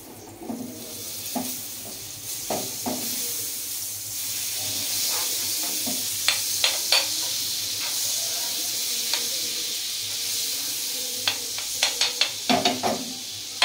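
Amul butter melts in a pan with a steady soft sizzle and hiss, broken by scattered faint crackles and a few sharper pops near the end.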